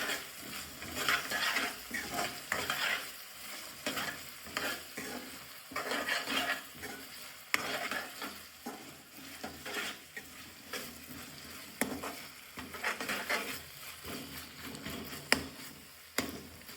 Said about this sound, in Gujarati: ત્યારબાદ એને સારી રીતે મિક્સ કરી દઈશું.